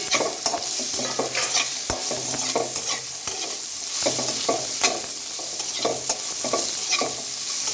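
Carrots tossed into hot oil with turmeric for a quick cabbage and carrot sambharo, stirred steadily with a spoon over a constant sizzle; repeated scraping strokes sound close and fairly loud, with no talking.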